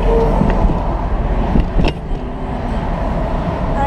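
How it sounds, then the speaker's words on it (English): Road traffic hums steadily around a school bus stuck in slow-moving congestion, a continuous engine and tire drone with a brief passing swell midway. "I kept running into this traffic."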